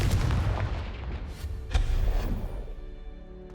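Confringo fire spell in Hogwarts Legacy exploding, a loud booming blast with a second burst midway, then a rumbling tail fading away, with no talk.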